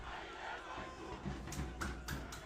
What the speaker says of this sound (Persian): دم این هوادارا گرم، تو این هوای سرد پاییزی اومدن و دارن تیم داماش رو تشویق میکنن.